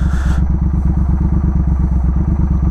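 Triumph Speed Twin motorcycle idles and creeps over a fire-trail surface, its twin-cylinder engine thumping steadily and loudly close by. A short gravelly scrape comes at the very start.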